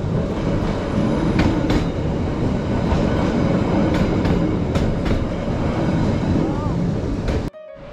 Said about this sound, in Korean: 기차 가 오는데요